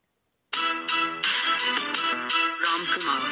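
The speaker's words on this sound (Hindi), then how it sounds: "स्क्रॉल करने के बाद हमारा रिंगटोन आ गया है, सुनकर देखते हैं।" A Ram Kumar name ringtone begins after a brief silence, a bright melodic tune with repeated, evenly spaced phrases played loud and clear.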